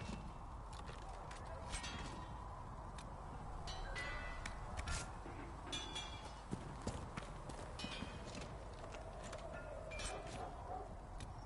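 Horse hooves clip-clop steadily in Dragon Age: Inquisition, a quiet, even rhythm of footfalls under faint game ambience, with no talk over it.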